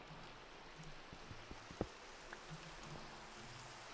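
Rain falling in Minecraft, a faint soft patter of scattered drops over quiet background hiss, with a few light ticks and one sharper tap standing out.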